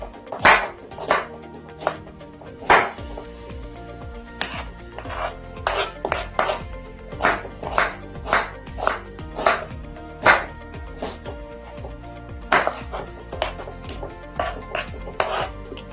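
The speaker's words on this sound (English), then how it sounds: "cut now our onions. Still the same julienne." A knife slices onions julienne on a cutting board, sharp rhythmic chopping taps landing steadily, close and crisp, about two to three per second, with soft clinks between strokes.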